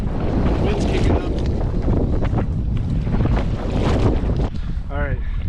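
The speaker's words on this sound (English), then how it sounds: "Wind's kicking up." Wind blowing across a lake while someone paddles a small boat, a loud buffeting rush against the microphone with water sloshing underneath, and a brief whistling tone near the end.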